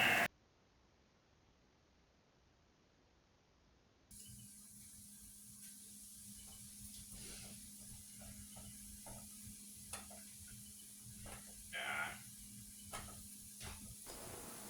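Homemade burger patties frying in a flat pan give off a faint, steady sizzle and hiss that starts after a few seconds of near silence and carries on with small pops and crackles.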